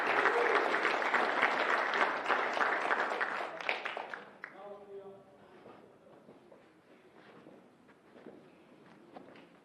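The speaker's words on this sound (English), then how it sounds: "Huge round of applause for our women's 81 session." Applause from the audience after a women's 81 kg session at a school weightlifting championship, a loud sustained clapping for about four seconds that breaks off and gives way to quieter room noise and a faint voice.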